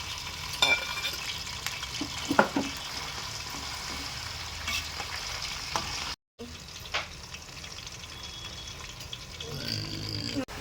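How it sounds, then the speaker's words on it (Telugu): Chicken frying in oil for a mango chicken pickle, a steady soft sizzle with intermittent clinks and scrapes of stirring throughout, brief silence midway. "మరీ అంత డీప్ ఫ్రై చేయకుండా ఇలా కలుపుకుంటూ ఉండాలి"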